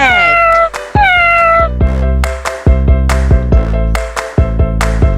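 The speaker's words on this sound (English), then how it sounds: "This is cat." Two loud, close cat meows ring out at the start, followed by a bright, plucky children's music backing with sharp rhythmic hits.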